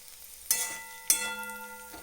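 Onion and chillies roasting in a pan: two sharp clatters of stirring, each followed by a fading sizzle over a low background hum.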